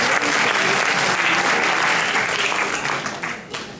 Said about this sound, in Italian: Un applauso a chi ha firmato per questa attività.